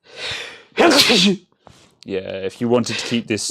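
A single sharp human sneeze bursts out loud and close, followed by people talking.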